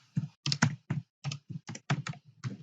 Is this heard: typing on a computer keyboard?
yes